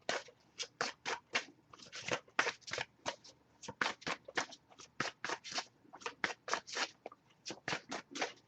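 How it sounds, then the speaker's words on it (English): Tarot cards are shuffled repeatedly up close, a quick run of crisp riffling bursts in a steady rhythm, with no talking. "And I'll give it a few more shuffles before we move on."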